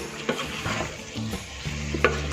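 Spiced masala roasting in a pan with a pinch of kasuri methi for a restaurant-style chicken curry, a close steady sizzle with a few stirring scrapes of a spoon against the pan.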